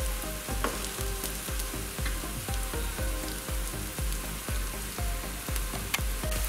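Taro root (chepang kilangu) cutlets fry in a pan of oil, a dense, steady sizzle with repeated crackling pops, loud and close, with no voices.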